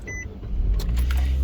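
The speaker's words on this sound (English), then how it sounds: "So start the engine" A Nissan Juke's engine cranks and catches, a low rumble rising and settling into a steady idle after a brief mechanical whirr, heard up close in a home garage during a brake pad and rotor job.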